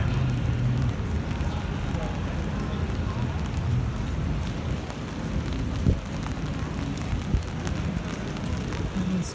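Rain falling on downtown Yonge Street in Toronto, a closed city street, a steady dense hiss of drops on pavement with a few louder splashes, constant and fairly close.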